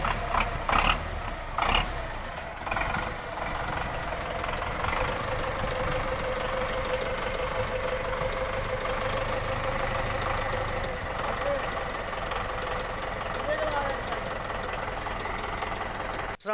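A 2022 Belarus tractor engine idling nearby, a steady continuous rumble with a few sharper knocks near the start and faint voices in the background.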